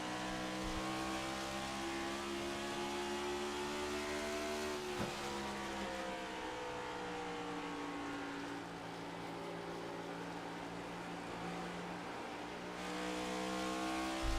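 Onboard race car engine in iRacing at Iowa Speedway, a steady droning whine with rising and falling pitch as the throttle is fed in gently through the corners, close and continuous for the whole lap section.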